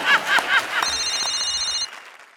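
A brief snicker of laughter, then an old-fashioned telephone bell rings in a sustained trill before cutting off.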